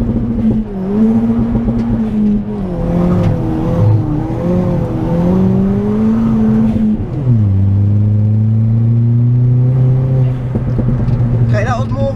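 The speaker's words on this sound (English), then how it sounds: "that was more of a burnout than a launch because there was no traction there at all" A 320 bhp Ford Fiesta ST launches from a standstill in first gear off the handbrake, its engine revving hard and wavering as the wheels spin without traction, then dropping to a lower steady roar, loud and close from inside the car.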